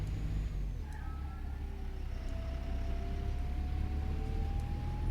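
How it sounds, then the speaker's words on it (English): Optare Solo bus with an Allison automatic gearbox in the OMSI 2 simulator, a low continuous engine rumble with a rising gear whine sweeping upward as it pulls away, steady and fairly close, no talk. "I recognise the gearbox sounds as well. Apparently it is an Allison gearbox"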